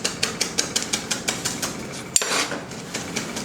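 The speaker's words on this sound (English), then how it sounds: "I'm going to chop in the herbs into the sauce." A knife chops fresh herbs on a board for homemade sweet chili sauce, giving quick, evenly spaced crisp taps about five per second, close and clear, with one sharper knock near the end.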